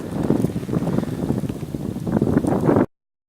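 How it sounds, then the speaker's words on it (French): Strong wind during a snowfall in Saône-et-Loire, France, buffets the microphone in uneven gusts, rumbling and roaring for a few seconds before cutting off abruptly. "Il y a du vent, hein."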